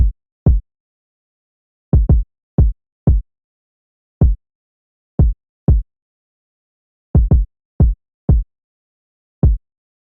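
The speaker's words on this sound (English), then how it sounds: "the first thing that I have here is a kick that sounds like this" A deep, punchy kick drum thumps alone in a sparse, uneven pattern, about a dozen hits with silence between them.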